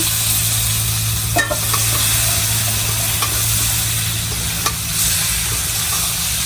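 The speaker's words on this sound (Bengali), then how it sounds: "এখন আলু আর পেঁপে গুলা যে ভাজা রাখছিলাম এটা দিয়ে দিতেছি" Onions frying in a pan as fried potato and papaya pieces are added for a potol korma, giving a loud, steady sizzle throughout with a few clinks and scrapes of a utensil, and no talking.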